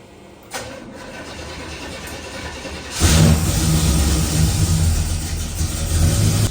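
A fuel-injected Chevy C10 truck engine, not run for over a month, cranks briefly and then catches and fires up, settling into a loud, steady idle close by in a garage, with no talk over it.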